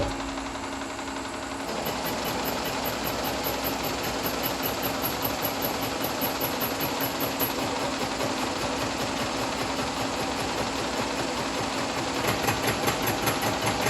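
Machine cutting metal with high-speed steel bits, giving a steady, loud mechanical drone with a fast rhythmic chatter that runs without pause for the whole stretch, no speech.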